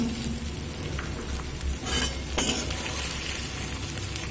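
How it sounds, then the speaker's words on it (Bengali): Prawns hit a pan of onion and garlic that has fried about two minutes, giving a steady close sizzle and crackle throughout with a brief louder burst near the middle, and no talking. "দেখুন পেঁয়াজ রসুনটা দিয়ে আমি দু মিনিট মতো ভেজে নিয়েছি এবার এখানে দিয়ে দেব কেটে রাখা চিংড়ি মাছ"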